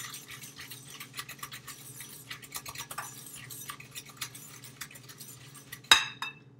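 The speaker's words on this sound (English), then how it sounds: "Then add a little bit of vanilla essence and keep whisking it all together." A whisk works through cake batter with vanilla essence in a bowl, making quick, quiet clinks and scrapes in an uneven rhythm, ending with a sharper knock against the bowl.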